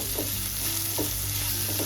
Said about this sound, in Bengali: এই সমস্ত আদা রসুন কাঁচা লঙ্কাকে আমি এখানে 30 সেকেন্ড মতো ভেজে নেব।